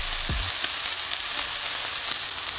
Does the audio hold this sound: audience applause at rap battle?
no